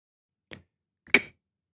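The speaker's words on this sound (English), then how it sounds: "We can see how quickly k comes by snipping our fingers together like" Two quick, crisp finger snips sound close and alone in silence, the second sharper and louder than the first.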